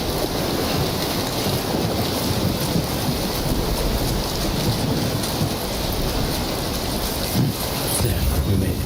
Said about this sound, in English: I don't think Lou likes the rain.